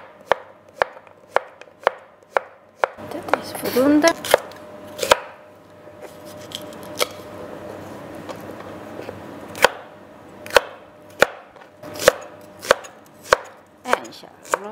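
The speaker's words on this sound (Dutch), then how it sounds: "nu ga ik beginnen met snijden" A knife chops chicken fillet on a cutting board, with sharp, regular knocks at a steady pace, near and clear. A quieter stretch of softer cutting sits midway, and a person briefly speaks.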